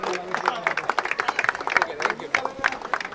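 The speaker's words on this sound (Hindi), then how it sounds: "जोरदार तालियां हमारे दूसरे अंपायर महेंद्र जी के लिए." Applause for the second umpire at a trophy prize ceremony, a crowd clapping in quick uneven bursts close by, with hubbub and voices mixed in throughout.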